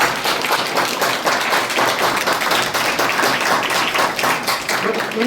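A symposium audience claps loudly for Padma Shri awardee Romalo Ram, a dense, sustained round of applause lasting several seconds with no voices over it.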